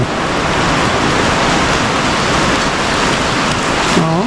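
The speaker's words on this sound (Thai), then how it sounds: "ฝนก็ตก" Steady, heavy rain pours down during a morning alms-giving in a Lao village, a constant loud wash of drops with a brief voice just at the end.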